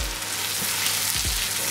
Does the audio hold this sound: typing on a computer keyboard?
no